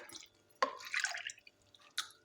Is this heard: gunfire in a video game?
no